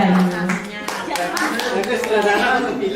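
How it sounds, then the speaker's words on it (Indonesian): A group of teachers at a training session gives a round of applause, a dense, steady patter of clapping with voices and chatter mixed in throughout. "Bapak Ibu kasih tepuk tangan untuk Ibu dan Bundanya."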